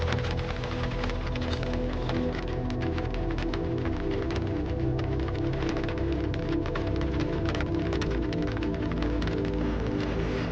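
Steady, dense rainfall pours without a break, a loud close wash of drops drumming on surfaces with no voices over it.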